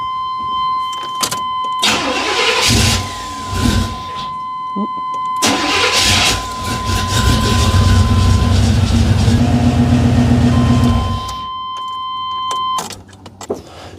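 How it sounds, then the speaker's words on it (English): A 1993 Chevy Blazer engine cranks and fires, with a couple of short starter bursts before catching, then settles into a steady rumbling idle that cuts off near the end. "We're going to start the motor. Let it idle for about 30 or 40 seconds."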